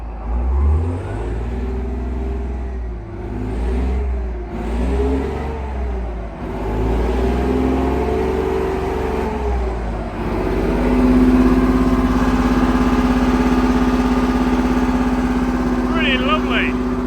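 A revived tank engine, idle for 30 years, runs with a low steady rumble, revving up briefly a couple of times before settling into an even idle, with a voice speaking over it.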